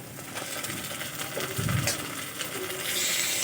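Onion and ginger-garlic paste fry in a pan with a steady sizzle, punctuated by a few clinks and stirring scrapes, close and alone with no talk.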